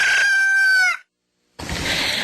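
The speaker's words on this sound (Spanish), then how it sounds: "El despertar del gallo." A rooster crows once, a loud, close, harmonic cock-a-doodle-doo lasting about a second, followed by a brief silence and then a burst of noisy broadband sound.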